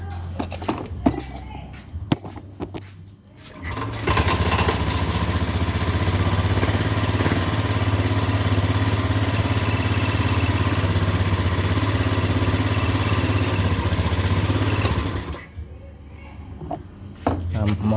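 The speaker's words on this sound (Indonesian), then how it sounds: "Nah, motor langsung hidup ya." A Honda Beat FI scooter starts up after a fault repair and settles into a steady, close idle that runs for about eleven seconds before cutting off, with handling clatter before and after.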